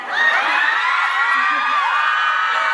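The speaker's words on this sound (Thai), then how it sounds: "แหมพี่ชายเชียร์" A crowd of children and family members whoops and shouts at a kids' game on stage, with high, bright cheering voices blending into one loud, steady roar that lasts throughout.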